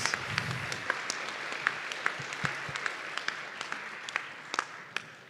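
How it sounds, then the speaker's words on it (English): Sparse, scattered claps from a smallish crowd at an electric unicycle championship contest in Warsaw, Poland, greeting the volunteers; individual hand claps pop out distinctly over a quiet room tone. "So please, big applause for our volunteers"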